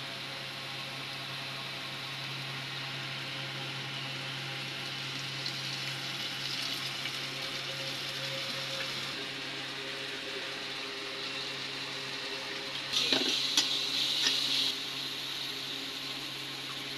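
Onion, chili and garlic fry in a wok, giving a steady, low sizzle over a constant broadband hiss, with a brief brighter clatter near the end.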